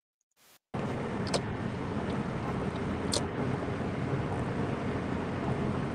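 Steady road and engine rumble from inside a moving car, loud and continuous after a brief quiet start, with a couple of faint clicks.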